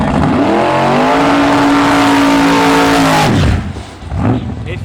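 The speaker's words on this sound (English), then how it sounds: "you can literally see the tires fill up like with hot air when he did the burnout" A truck does a tire burnout, its engine roaring steadily at high revs while the tires spin for about three seconds before the sound cuts off abruptly and settles into lower rumbling.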